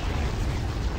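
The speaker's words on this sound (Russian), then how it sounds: "Атомный взрыв." A deep, sustained rumbling roar of an atomic explosion in the video game Athena Sword, loud and continuous with heavy low-end boom and no voices.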